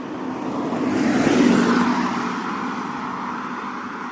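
A car passes on a rural road in Japan, its broad engine and tire roar swelling to a peak around the middle and then fading slowly as it moves away, with no speech.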